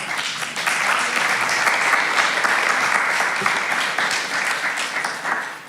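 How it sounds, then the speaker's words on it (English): A church congregation claps during a Sunday service, producing sustained, even applause at a steady loudness from start to finish. "And now we can clap."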